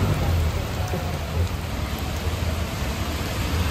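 Steady rain falls outdoors during a motorcycle riding shoot for a Kawasaki ZX6R, a dense, even hiss with a low rumble underneath, continuous and fairly loud throughout with no voices.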